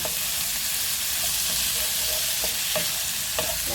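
Boneless chicken stir-fried in a pan for Chinese-style chicken, a loud continuous sizzle with a few faint scrapes of stirring, close and without speech.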